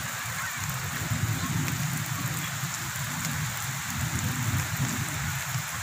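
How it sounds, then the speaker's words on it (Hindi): Steady rain falls continuously over a village, a dense even hiss with a low patter underneath, fairly close and with no voices. "दूर दूर तक जनाब बारिश है"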